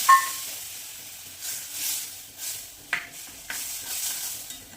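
Yogurt is stirred into a hot spiced tempering in a pan, giving soft intermittent hissing and wet scraping swishes in several slow strokes, close and fairly quiet.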